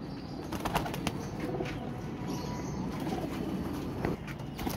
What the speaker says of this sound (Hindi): बड़े कबूतर दिखाओ, बच्चा ना दिखाओ।